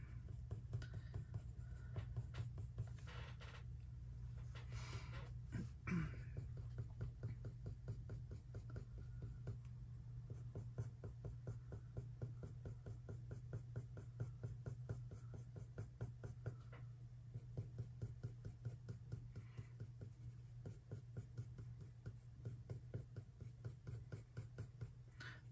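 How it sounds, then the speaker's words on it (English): Colored pencil drawing fur on a chocolate Labrador portrait, sounding as soft, steady strokes scraping across paper in a continuous close rhythm for the whole stretch, with no talking. "Maybe every so often you'll hear like a little scribble noise"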